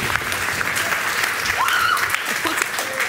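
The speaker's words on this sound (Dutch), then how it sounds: "En dan een applaus voor de inleiders van de allerlaatste stelling" Audience at a national student debate applauds the opening speakers, a dense, loud burst of clapping with a faint whistle or squeak riding over it.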